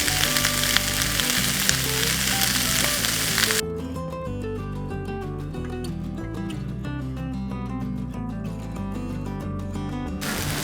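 Brussels sprouts fry in butter in a pan with a steady, close sizzle; music plays throughout, louder over the first few seconds, and the frying carries on underneath.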